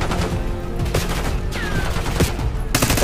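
Bursts of gunfire in Call of Duty: Black Ops 6, several rapid shots and a volley layered over a busy battlefield mix, loud and close, with no talking.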